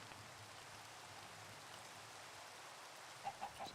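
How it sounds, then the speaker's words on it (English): Thunderstorm rain in the modded Minecraft game All The Mods 10 hisses as a steady, soft, even patter, with a few brief clucks from chickens near the end. "Thunderstorm. We can sleep during thunderstorms."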